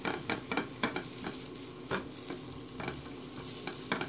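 Steady sizzling of sausage, peppers and onions frying in a pan, with intermittent scraping and stirring clatter from a utensil, close and fairly loud, no voices.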